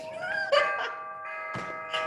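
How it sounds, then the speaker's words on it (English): A doorbell rings indoors with a couple of clear, tonal chimes, moderately loud and close, separated by brief gaps of near silence. "And the feeling will cease when the doorbell rings."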